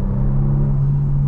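A 2023 Hyundai Genesis G70 Sports Prestige accelerates hard to pass traffic, its engine giving a loud, close, steady droning rumble for a moment with no speech over it.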